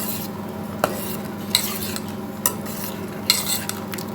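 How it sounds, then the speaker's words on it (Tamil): A spoon stirs carrot payasam flavoured with saffron in a pan, giving a few distinct metallic clinks and scrapes over a soft steady simmer, close and with no talking. "போட்டு நல்லா கிண்டி விட்டுக்கோங்க."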